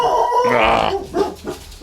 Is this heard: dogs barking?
yes